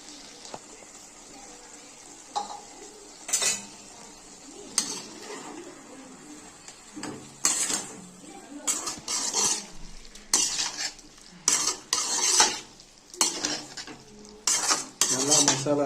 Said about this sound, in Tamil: நல்லா மசாலா கிண்டி விட்டுருங்க.